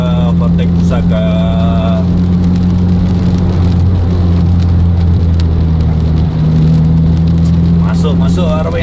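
Buses drive on a wet road in heavy rain, with a steady low engine drone and a constant hiss of rain and spray throughout, loud and close, with brief whines and voices mixed in.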